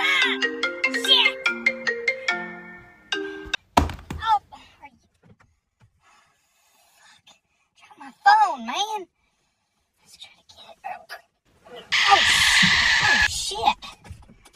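A phone ringtone plays a short melodic tune of stepped beeping notes, then stops, followed by sparse scattered sounds, a brief warbling tone and a burst of noisy hiss near the end.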